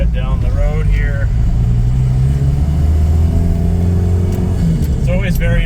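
A 60-series Toyota Land Cruiser drives down the road on a road test after knuckle repair work, its engine droning steadily and loud inside the cab while someone talks over it.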